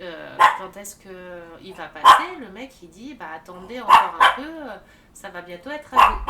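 A dog barks in sharp, separate bursts, about five barks spread out over several seconds, heard close by under continuous talk from a person.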